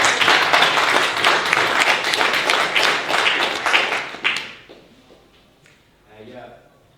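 Audience at a Berlin Bitcoin startups meetup breaks into loud, dense clapping for about four seconds, then it stops abruptly, leaving quiet room sound with a brief murmur of voices.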